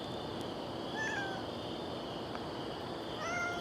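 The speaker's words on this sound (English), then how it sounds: "it's a cat on a roof" A cat meows on a roof, two short drawn-out cries about two seconds apart, fairly faint against a steady background hiss and hum.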